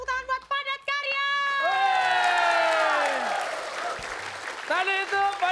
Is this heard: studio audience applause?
yes